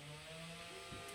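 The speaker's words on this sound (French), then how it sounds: "là vous entendez sans doute la tronçonneuse" A chainsaw drones steadily in the background, a faint, continuous buzzing hum heard from a distance throughout the short stretch.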